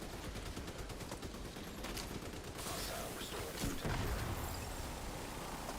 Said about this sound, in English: So you got double explosions there,